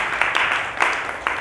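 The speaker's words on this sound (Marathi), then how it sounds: "तर त्यांचे टाळ्या वाजवून आपण स्वागत करू." An audience claps steadily to welcome a speaker at a Mahanubhav satsang in Sambhajinagar, a dense, continuous patter of many hands with a few sharper bursts, close and fairly loud throughout.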